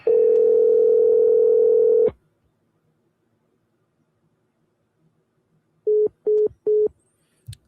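A steady telephone dial tone hums for about two seconds, then stops, followed after a silence by three short dialing beeps and a faint click, heard alone with no talk.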